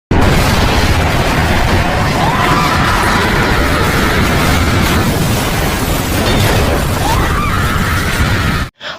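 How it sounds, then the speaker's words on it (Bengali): A loud, sustained roaring blast of a plane crashing onto a school, explosion and crash noise rumbling continuously before cutting off abruptly, in a cartoon. "হঠাৎ বিমানটি তাদের স্কুলের উপর পড়ে"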